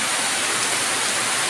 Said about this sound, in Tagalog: Ulan lagi guys. Grabe ka tugnaw. Oh. Kusog kay ulan dito sa amua.